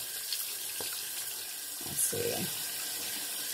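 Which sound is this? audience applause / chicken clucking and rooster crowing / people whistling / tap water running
tap water running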